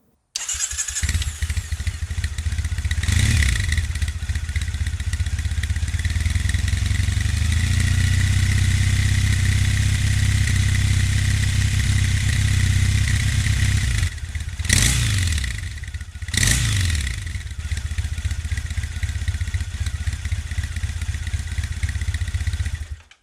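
A 2015 Triumph Thruxton 900 Ace motorcycle engine runs loud and steady close by through standard Triumph silencers, a deep continuous drone with a few brief revs around the middle and no talk.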